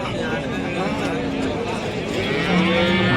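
An eleven-month-old calf lows steadily nearby amid a busy outdoor crowd at the Ranebennur cattle market, with people talking and bargaining over the cattle sounds throughout.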